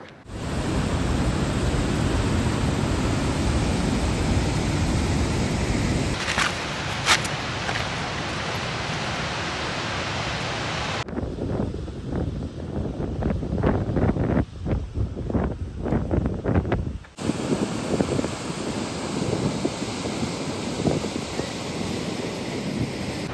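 Burney Falls waterfall roars nearby as a dense, loud, continuous rush of falling water, steady throughout with brief shifts in level, and no talk over it.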